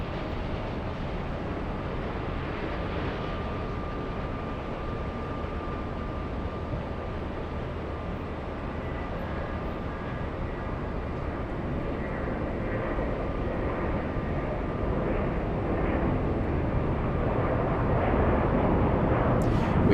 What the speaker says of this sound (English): We have the 777-300ER landing in just a few seconds.